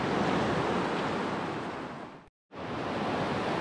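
A rushing river courses over large rocks, a dense steady roar of churning water close to the microphone, cut by a brief silent gap before the same full wash returns, with no one speaking.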